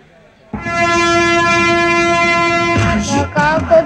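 A train horn blows one long, steady, loud blast for about two seconds during a film comedy scene set aboard a train, then cuts off as voices and a brief commotion take over.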